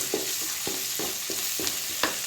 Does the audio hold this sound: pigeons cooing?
no